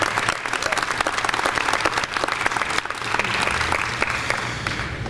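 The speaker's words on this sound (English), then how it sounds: "So please help me give them a round of applause." Sustained audience applause for two gentlemen honoured at a 2018 sports announcement, dense steady clapping from a crowd filling the room for several seconds.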